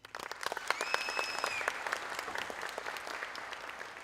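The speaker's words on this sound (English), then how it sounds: "I'd like you to take a moment to just clap for yourselves for this huge achievement." A hall full of students at a mayor's ceremony for top-performing schools and matriculants breaks into applause, a dense burst of many hands clapping that swells quickly and holds steady for several seconds.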